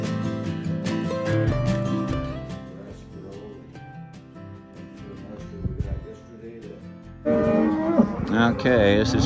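Cattle moo repeatedly during a morning of working cows and calves on a cattle drive, loud nearby lowing calls overlapping one another, with a brief voice in the mix.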